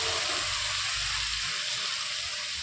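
A little water tipped into hot oil with Kashmiri chilli powder and spices sends up a brief, loud, hissing rush that fades within a few seconds.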